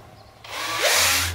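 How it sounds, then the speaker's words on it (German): A power drill with a bit slightly thicker than the wire rope bores a hole for a garage door opener's emergency release cable. After a quiet start it spins up and grinds loudly and steadily, close by. "Nehmt einen Bohrer, der noch unwesentlich dicker ist als euer Drahtseil."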